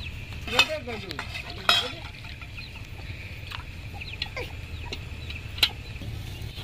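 Milk simmers steadily in a wok as it thickens for kheer, while a spoon scrapes the bottom a few times, with sharp clinks rising over the low bubbling.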